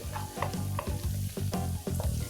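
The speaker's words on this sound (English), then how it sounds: "1 teaspoon of finely minced garlic and 1 teaspoon of finely minced ginger. And just cook these till the raw aroma goes away" Finely minced garlic and ginger frying in a pan give a steady sizzle, with rhythmic stirring scrapes repeating about every half second, close and alone without talk.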